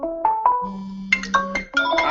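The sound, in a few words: mobile phone ringing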